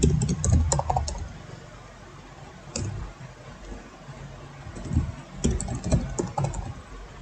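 Someone types on a computer keyboard while entering SQL data, producing scattered bursts of clicking keystrokes with pauses in between, moderately close.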